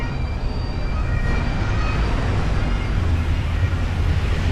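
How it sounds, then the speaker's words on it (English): Steady, loud rumble and hum of an Edinburgh tram approaching along a busy city street, a continuous low roar with a faint high whine, close by and without a break. "The tram's coming there."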